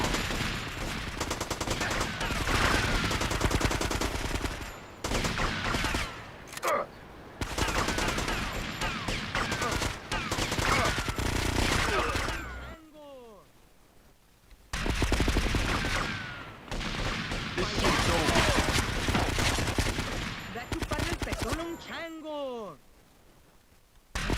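Sustained gunfire in GTA Vice City Stories: long, dense volleys of loud shots with short gaps in between, with a voice speaking in places.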